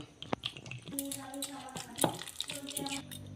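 Water is poured onto the sticky pulp of a very ripe bael fruit, giving light splashing and trickling with small clinks, while a voice talks over it.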